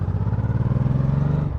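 An old Honda cruiser motorcycle rides along steadily, its engine droning near and loud with a continuous low throbbing tone that rises slightly in pitch through a gear change.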